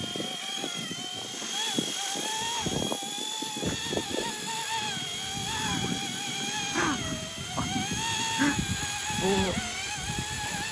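A 1:28 scale RC model helicopter flies close by with a steady, continuous high-pitched rotor and motor whine that holds throughout, while people talk over it.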